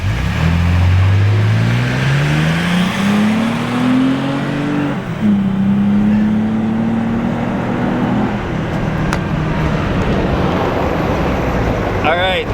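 A truck camper and a Sprinter van accelerate hard in a drag race, their engine tones climbing through rising gear pulls with a brief shift drop, loud and close, and then fading into road noise as someone speaks.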